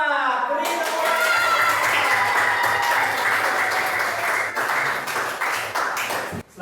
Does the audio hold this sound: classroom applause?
yes